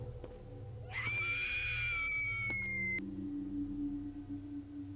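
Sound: screaming in the video game Education

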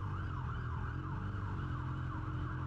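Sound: fire truck siren

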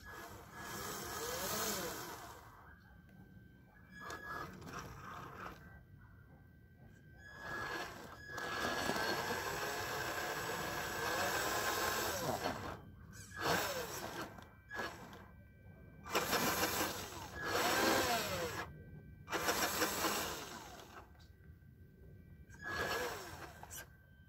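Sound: HengGuan HG P407 RC truck driving, stock setup, first run

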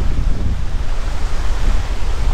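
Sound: waves washing against the shore

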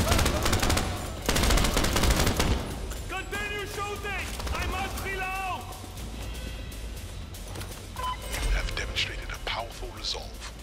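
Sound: gunfire in video game Crime Boss: Rockay City

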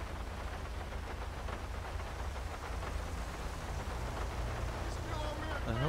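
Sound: heavy rain in GTA 5 video game

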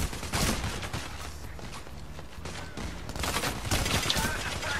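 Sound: gunfire in video game Payday: The Heist

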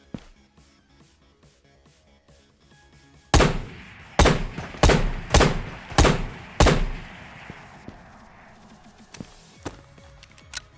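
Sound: gunshot in a video game

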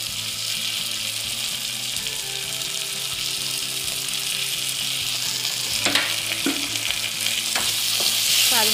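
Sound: garlic and ginger paste frying and stirred

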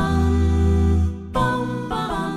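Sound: musical harmony

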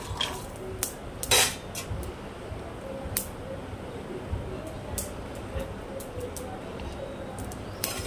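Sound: peanuts roasting in a kadai on the stove

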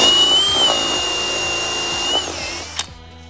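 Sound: drilling with a 7/8 drill bit

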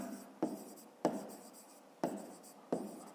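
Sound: writing by hand

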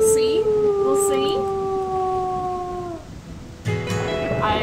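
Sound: wolf howling in the video game WolfQuest

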